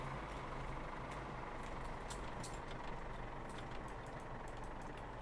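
In the video game My Summer Car, a tractor engine idles with a steady, fairly faint low rumble, joined by a few soft mechanical clicks and rattles.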